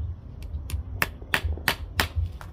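A 9-in-1 multi-function tool, used as a hammer, drives a staple into a workpiece with about eight sharp metallic taps in an uneven rhythm, close and fairly loud.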